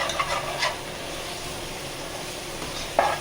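Biryani ingredients frying in a pot over high flame are stirred, giving a steady soft sizzle with faint scraping strokes near the start and a brief clink near the end.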